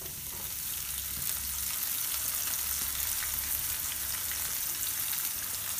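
Shredded cabbage frying in a hot pan with chopped ginger and garlic for an Indo-Chinese soya nuggets Manchurian, a loud dense continuous sizzle close up, no talking.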